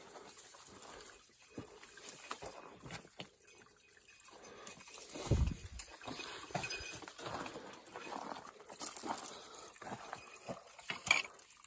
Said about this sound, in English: I hear running water here.